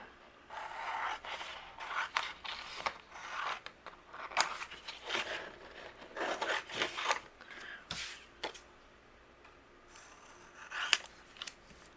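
Scissors snip and slice through cardstock, trimming around Christmas card images from the Santa, Please Stop Here collection in a quiet, close series of irregular cuts and paper rustles.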